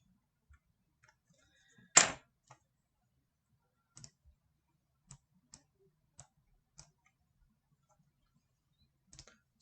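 A single sharp click stands out, followed by a few scattered, faint taps of computer keys and mouse clicks in a quiet room.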